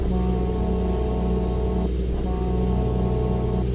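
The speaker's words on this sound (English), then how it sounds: "Oh, I got a cool sounding horn." Dual-tone air horn of an International Eagle 9400i truck in American Truck Simulator, a loud steady blast held nearly four seconds with a brief break in the middle, over constant engine drone.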